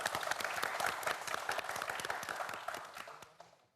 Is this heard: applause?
yes